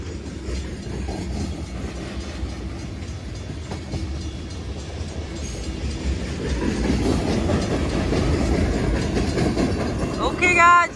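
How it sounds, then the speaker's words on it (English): A CSX freight train with boxcars and lumber cars rolls past in Holland, Michigan, its rumble and clickety-clack of wheels growing louder over the second half, with a brief metallic squeal near the end. "Here comes in the train, guys. Here it comes right now."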